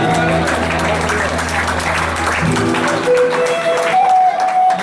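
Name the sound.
audience applause at tournament prize ceremony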